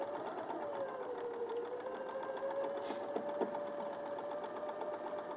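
A sewing machine stitches fabric in a continuous, steady whir with a faint rhythmic needle clatter that runs unbroken from start to finish at moderate, close loudness.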